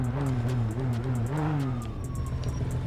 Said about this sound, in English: So all you hear is sirens.